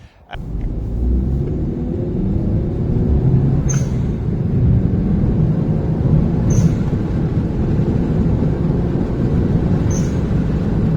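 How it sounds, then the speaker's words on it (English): An HKS blow-off valve on a Suzuki Swift Sport ZC33S vents to atmosphere while the car sits stationary. Three short, sharp hisses cut through a steady, close engine rumble at intervals of about three seconds. "So that is the HKS dump valve fitted. It sounds really good stationary."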